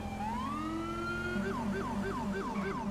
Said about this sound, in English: I kind of miss this siren though.